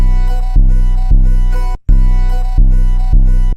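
A loud, deep 808 bass plays a bouncy pattern of booming notes that each sustain and fade, with an uneven, swinging triplet feel.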